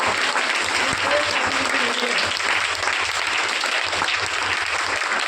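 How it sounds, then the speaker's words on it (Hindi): A church congregation claps loudly and continuously in a dense, even wash of applause, with a few voices and a brief vocal call rising faintly through it. "तालियां भी भरपूरी से बजा"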